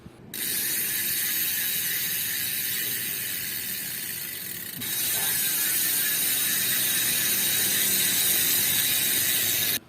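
Rapid, continuous ratchet clicking from a spinning Hasnss PRO 7 bicycle hub freewheel with six pawls, loud and close, keeping a steady buzzing texture that shifts slightly midway.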